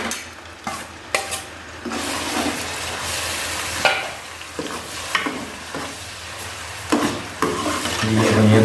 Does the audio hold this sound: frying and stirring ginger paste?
yes